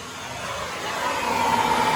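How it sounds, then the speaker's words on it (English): A gas torch roars steadily while heating a stuck bolt on a Japanese motorcycle, a close, continuous broadband hiss that grows slightly louder through the short stretch, with no speech. "we're out here with the torch trying to get this bolt to come out"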